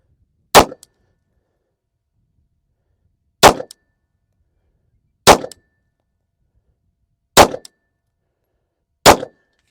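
Five loud, sharp shots from a Taurus 58 .380 pistol firing Winchester flat point rounds at a target, evenly spaced about two seconds apart with complete silence between them.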